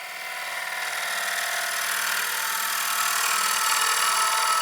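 A bowl gouge cuts wood on a spinning lathe, a continuous hissing, scraping whir that builds slightly in loudness, close by and without speech.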